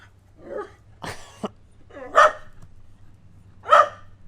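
Corgis bark and yip in a backyard, with several separate sharp barks spaced irregularly and fairly close, plus softer whimpering sounds between them over a low steady hum.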